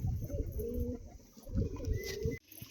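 Domestic pigeons, including red-headed Saharanpuri birds, coo at close range in repeated low throaty rolls, several overlapping calls in an uneven rhythm, with faint chirps and handling noise in the background.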